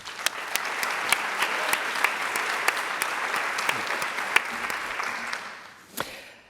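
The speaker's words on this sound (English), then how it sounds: "a round of applause for Jeff Duncan" A seated audience at a moderated panel applauds a guest author, steady, fairly close clapping with a few sharp individual claps standing out, sustained for about six seconds before trailing off.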